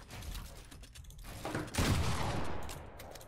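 A burst of rapid gunfire in a video game crackles at moderate volume, building into a louder sustained volley partway through, with light clicking and keyboard-like tapping underneath.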